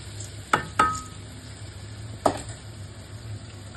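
Washed rice frying in oil for Thalassery-style Kalumakayi rice, a soft steady sizzle under three sharp spoon scrapes against the pan, two close together early and one more a little later.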